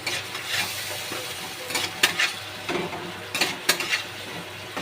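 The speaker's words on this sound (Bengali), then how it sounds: "আবার একটু ভালো করে নেড়ে ছেড়ে নেব" Poppy seed paste for pomfret posto is stirred in a pan with soft scraping and intermittent spatula taps over a quiet sizzle, the strokes coming in irregular bursts.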